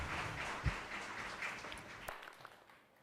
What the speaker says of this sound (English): Please welcome Dr. Chiang with a round of applause.